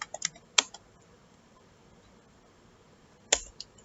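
Computer keyboard typing while writing Python Boto3 code to delete an S3 object: a few quick clusters of key clicks near the start, a long quiet gap, then another short burst of keystrokes, close and crisp.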